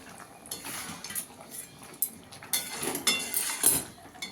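Chicken with pepper, chillies and spices is stirred in a cooking pan, the spatula scraping and clinking against the metal in uneven strokes, with faint background sizzle.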